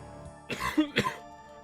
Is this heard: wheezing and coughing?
yes